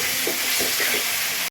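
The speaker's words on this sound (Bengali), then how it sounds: "সমস্ত কিছু আবার একটু ভালো করে কষাবো" Tomatoes, green chilli and salt sautéing in a hot pan give a steady, close sizzle and hiss with a few soft stirring scrapes, then cut off abruptly at the end.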